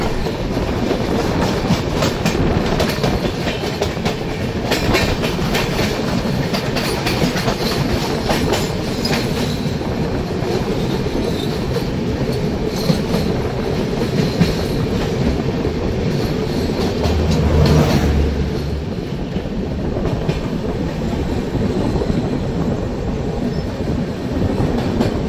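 Saraighat Express from Howrah to Guwahati rolling across Farakka Barrage, a steady loud rumble with rhythmic wheel clatter that continues unbroken throughout, heard close up with no talking.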